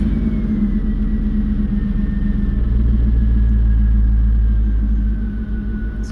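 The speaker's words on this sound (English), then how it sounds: "this would be like if you crank the truck up" A 2001 Chevy Silverado truck engine runs at a steady deep rumbling idle, loud and close, with a slight rise and settle in the drone before it drops near the end.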